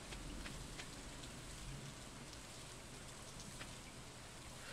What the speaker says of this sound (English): in the game it's raining, and then in real life it's also raining